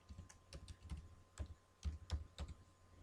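Quiet typing on a computer keyboard: about a dozen soft, close key taps in an uneven rhythm over a faint steady background hum.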